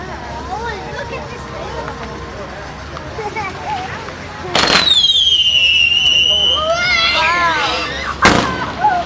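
Just Shoot Me 500 gram firework cake fires with sharp bangs and whistling rising shots, followed by crackling bursts, outdoors with crowd chatter and voices throughout.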